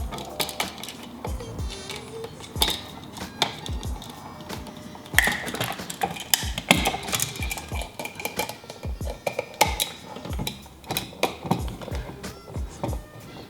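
A screwdriver tightening terminal screws on a light switch in a tiny house build, giving a busy run of close clicks, scrapes and metallic taps at an uneven rhythm, with no talk.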